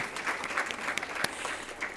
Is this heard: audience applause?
yes